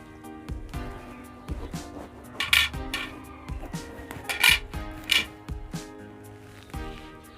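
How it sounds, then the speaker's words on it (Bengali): A whole bottle gourd is cut in half with a knife, giving a few sharp, moist crunches and scrapes close by on a board, separated by pauses, over soft background music. "আমি এখন এটাকে অর্ধেক করে নেব।"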